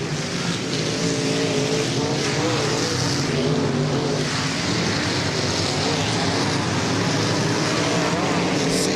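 Race cars roar continuously around an oval track at a night race, a dense, loud engine drone with cars passing close, while an announcer's commentary runs over it.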